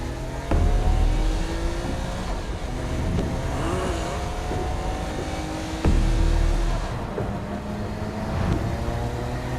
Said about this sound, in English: Kinsey Kensington and Johnny Gat driving together on a birthday adventure